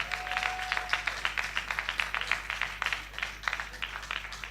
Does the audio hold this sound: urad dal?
no